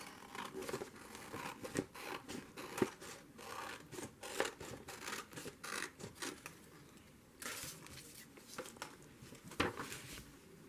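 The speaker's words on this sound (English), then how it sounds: "I'm going to cut this piece off." Scissors snip through a piece of paper while making a junk journal, with a series of faint, close cuts and light paper rustles repeating irregularly.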